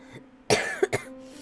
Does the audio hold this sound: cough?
yes